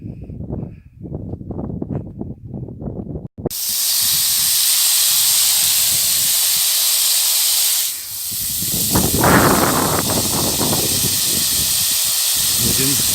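Water sprays steadily from a hose into dug holes in a garden plot prepared for planting potatoes, a loud continuous hiss that follows someone talking and continues with him speaking over it.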